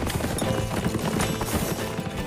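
Horses galloping across fields, with rapid overlapping hoofbeats that thud close and loud in a quick, uneven rhythm, with no voices.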